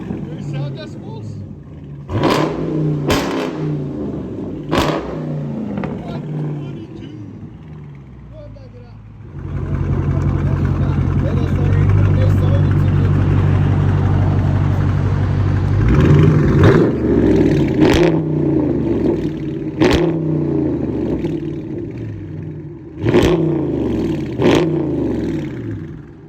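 Straight-piped 2021 Dodge Charger Daytona 6.4-liter HEMI V8 with 5-inch tips roars through repeated sharp revs, with a long sustained rev in the middle, over a rumbling idle, loud and close; people talk and exclaim around it.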